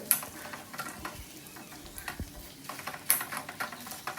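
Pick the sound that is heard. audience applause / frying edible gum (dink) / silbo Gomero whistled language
frying edible gum (dink)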